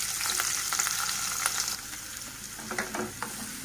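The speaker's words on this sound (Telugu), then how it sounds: "ఆనియన్స్ వేయించుకోవాలి" Finely chopped onions fry in oil with tempering spices, giving a dense, continuous sizzle close by, punctuated by occasional spatula stirring clicks.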